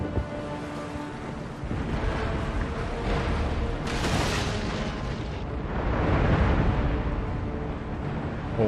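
Heavy cannon fire pounding a warship in Empire: Total War, a thick rumbling wash of repeated booms and blasts that swells and overlaps into a continuous roar, loud and close.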